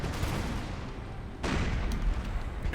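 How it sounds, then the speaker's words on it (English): Massed cannon fire in the Empire: Total War strategy game, with a steady rumbling barrage of many guns and dense overlapping booms that swell louder midway, all without speech. "like 30 cannons firing on them at any given time."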